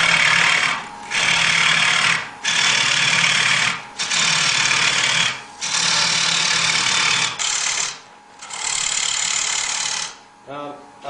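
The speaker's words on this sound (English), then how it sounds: "I can just stand in one spot and plunge the tool straight in" A bowl gouge plunges straight into a rough bowl blank spinning on a wood lathe, giving loud harsh cutting roars in repeated bursts of one to two seconds with brief pauses between them.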